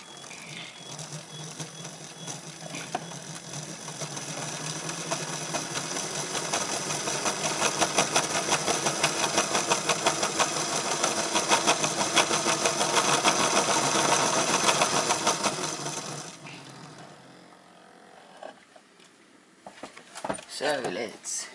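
Hornby 0-4-0 model steam locomotive running on a track with heavy wheel slip, a dense rattling mechanical buzz that gradually gets louder and then stops, followed by quieter handling sounds.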